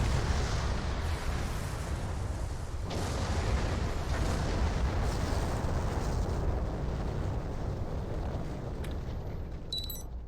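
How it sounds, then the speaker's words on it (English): Continuous rumbling explosions and blasts from a space battle in Star Trek Online roll on for several seconds, dense and loud, with occasional sharper bursts and electronic tones near the end. "More explosions. More. We want more explosions."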